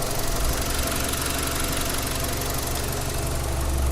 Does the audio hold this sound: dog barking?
no